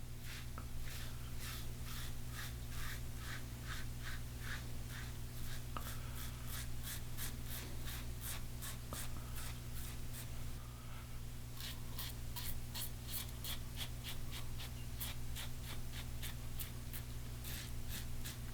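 A Merkur 34G gold safety razor cuts through a sideburn in a steady series of short, crisp scraping strokes, close and fairly quiet, with a brief pause midway.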